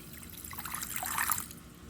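A small glass of water pours into a bowl of cumin, flax and chia seeds, making a short, gentle trickling splash that swells briefly and then fades, with no talking.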